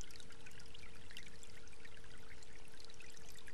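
Water flowing steadily in a small mill stream branching off the Ahr river, a continuous rushing and trickling wash that stays even and close throughout, with no voices.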